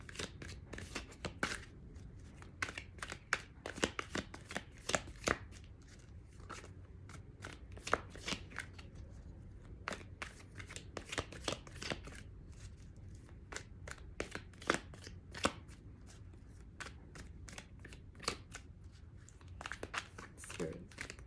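Tarot cards riffled and shuffled by hand in quick, repeated papery bursts, close and fairly soft, continuing in waves with short pauses.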